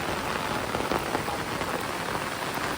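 Steady heavy rain pours onto surfaces in a dense, continuous hiss, close and fairly loud, with no voices.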